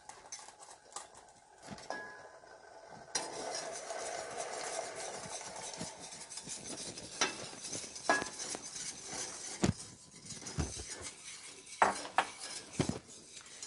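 Metal spoon stirring peach cobbler filling in a pot on medium heat, with steady scraping and clinking against the pot sides, close and fairly quiet, a few sharper knocks near the end.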